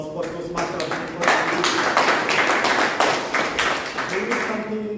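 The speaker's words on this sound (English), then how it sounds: "So a big round of applause for Toastmaster Abhishek" A crowd at a Toastmasters club meeting claps steadily for several seconds, an even patter of many hands close by with no voices standing out.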